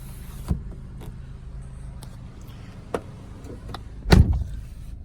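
The electric sunroof motor on a 2008 Mazda 3 whirs faintly inside the car, broken by a few clicks and a heavier thump near the end.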